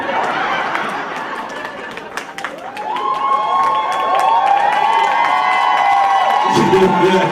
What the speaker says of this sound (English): Please put your hands together for Dionje